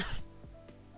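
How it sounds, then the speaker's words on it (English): A short cough with throat clearing from someone still phlegmy after illness, close and faint, a couple of rough bursts at the start followed by quieter throaty sounds. "So I'm still a little phlegmy, which makes me clear my throat a lot and cough a bit."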